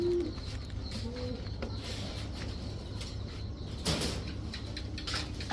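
A male high-flyer racing pigeon coos softly and repeatedly against a steady low hum, with a brief scraping clatter near the end.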